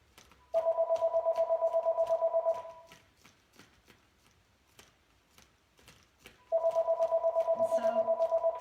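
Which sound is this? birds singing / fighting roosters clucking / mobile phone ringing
mobile phone ringing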